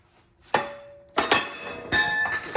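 A hammer strikes a car axle during installation: three sharp metallic clanks with ringing tails, close and fairly loud, spaced about half a second apart.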